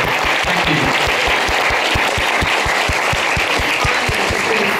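Audience applause for a charity group on stage at a film premiere Q&A, steady and loud throughout with dense overlapping claps and some sharp individual hand claps standing out near the front.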